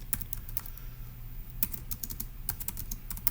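Someone types on a computer keyboard in a quiet room, with a quick, uneven run of close, crisp key clicks and no voice.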